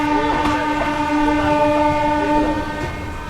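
The Palnadu SF Express, an LHB-coach train, pulling out of Sattenapalli railway station with a loud sustained horn blast over the rumble and clatter of the carriages, heard from on board.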